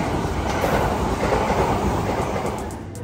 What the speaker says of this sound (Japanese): 右を特急列車が通過するようです。